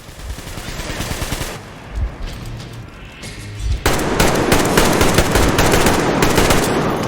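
Video game gunfire from Metro Exodus crackles in rapid automatic bursts, loud and dense, growing into continuous heavy shooting in the second half.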